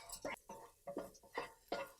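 Spinach stems being stirred in a frying pan for cheera thoran, five or six short soft scraping strokes of a spoon against the pan in an even rhythm, faint and close.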